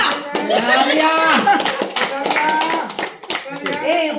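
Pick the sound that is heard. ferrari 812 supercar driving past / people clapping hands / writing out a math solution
people clapping hands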